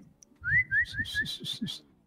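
A person whistles a quick series of short rising and falling notes, about six in a row, close and clear over faint background noise.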